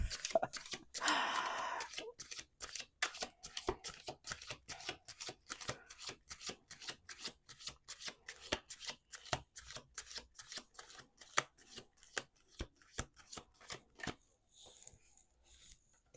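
Playing cards riffled and shuffled repeatedly on a table, crisp rapid flutters with a dense burst near the start followed by a steady run of sharp snaps and clicks, close and clear with no talk.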